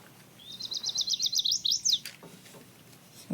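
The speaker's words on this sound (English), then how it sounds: "This is a chirp sound." A rapid run of about a dozen short, high chirps, each rising slightly in pitch, forms a quick sweeping trill that fades, followed by quiet low rumble.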